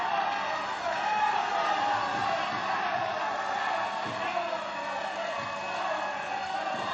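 A steady roar of cheering from an indoor crowd at the 1991 national men's indoor hockey final, St Albans against Welton, sustained and dense throughout with faint thuds from play underneath.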